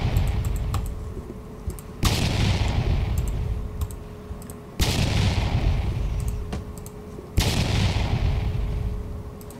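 Rapid cannon fire from a battleship in the Roblox game Battleship Battle: four loud, booming blasts spaced a couple of seconds apart, each decaying into a rumbling tail, with fainter clicking shots between them.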